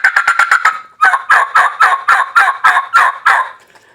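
Turkey hen call imitating an aggressive boss hen: a rapid burst of sharp cutting clucks followed by a loud, rhythmic run of fast yelps, close and clear with no talking.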